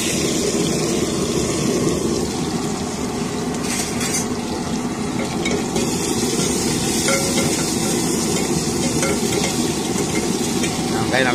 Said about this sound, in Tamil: கடுகு பொரிஞ்சிருச்சு, வெங்காயத்தை போட்டுக்கலாம்.